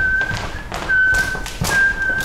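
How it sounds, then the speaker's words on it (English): Breathy whistled tones drawn in through a mouthpiece, three or four steady pitched notes with airy breaths between them, close up. "then the lips touch the mouthpiece and you hear the inhaling sound"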